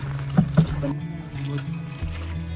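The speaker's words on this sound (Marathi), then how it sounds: "छोट्या होडीची सवारी करताना बघा" A small boat with five people aboard moves out at sea in the rain, a low rumble and light water sounds. Voices can be heard over it, with a couple of knocks near the start.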